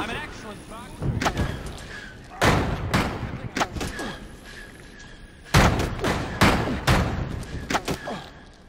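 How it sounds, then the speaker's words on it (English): Fireworks popping in the video game Bully: a string of loud, sharp bangs arrives in irregular clusters, some in quick pairs, over a steady low background. "Wow, they was popping fireworks up in that place."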